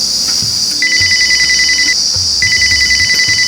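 A telephone rings in two long electronic trilling bursts separated by a short pause, steady and fairly loud over a faint background hiss.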